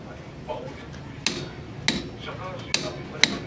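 An unbranded torque wrench tightens a bolt to 55 Nm on a Yamaha Nmax motorcycle during a center spring install: four crisp metallic clicks come at uneven intervals, close and distinct over a low background murmur.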